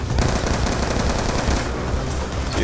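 Rapid automatic gunfire in Call of Duty: Black Ops 2 rattles continuously in dense bursts, loud and close, with heavy low booms underneath.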